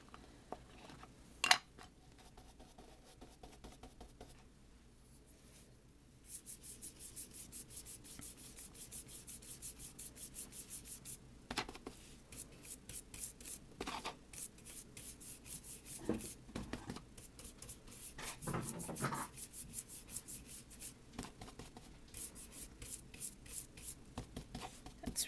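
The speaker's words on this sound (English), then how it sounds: "So I'm just going to rub this off on my scratch paper" An ink applicator from a card-making session rubbed across scratch paper, making soft, close scrubbing strokes in uneven bursts with a sharp tap near the start, quiet and without speech.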